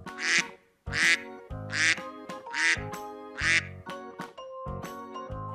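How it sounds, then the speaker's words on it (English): A duck quacks loudly and repeatedly up close, a steady run of nasal quacks with brief pauses, over soft background music. "Duck."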